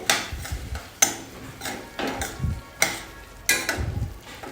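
Spices such as coriander-cumin powder and kitchen king masala being mixed in a pan for dhaba-style palak paneer, with a spoon knocking and scraping against the metal in several distinct clatters between softer stirring, close up with no talk.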